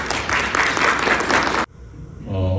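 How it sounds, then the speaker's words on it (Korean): A church congregation at a Sunday service gives a burst of dense, lively applause that stops abruptly, followed by a quieter room with a low hum. "여러분 박수로 환영해 주시면 감사합니다."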